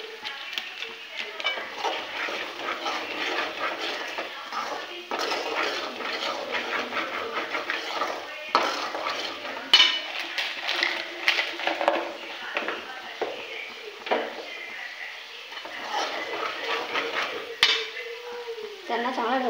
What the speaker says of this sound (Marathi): त्यांना चांगला ढवळून घ्यायचे,